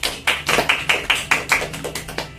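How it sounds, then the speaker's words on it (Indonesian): Applause from a small group during a training session on child stunting, a short run of about a dozen sharp, evenly spaced claps close by, with no voices. "Kasih tepuk tangan untuk semuanya."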